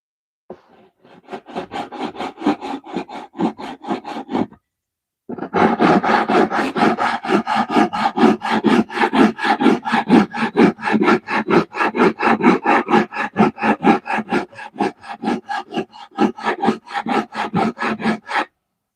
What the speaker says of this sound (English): I'm gonna lightly sand that down.